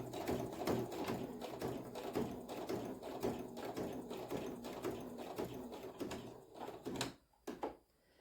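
A home sewing machine stitches a fabric bookmark with steady, rapid mechanical pulses at a fairly quiet level, then slows to a stop near the end with a few clicks.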